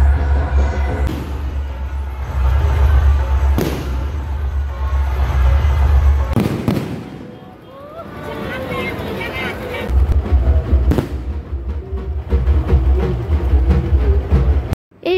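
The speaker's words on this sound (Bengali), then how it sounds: "এইভাবেই একের পর এক বাজি পুড়ছিল।" Fireworks burst one after another on Kali Puja night, with loud booms and crackling heard from a rooftop and a quieter lull midway before the bangs resume. People talk over the noise.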